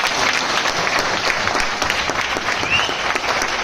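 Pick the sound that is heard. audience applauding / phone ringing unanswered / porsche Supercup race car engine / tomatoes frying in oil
audience applauding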